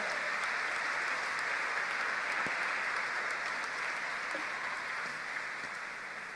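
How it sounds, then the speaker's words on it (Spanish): A church congregation applauds during a sermon, a steady wash of many hands clapping at moderate distance, even and sustained, tapering slightly near the end. "De un aplauso ahí a la palabra de Dios"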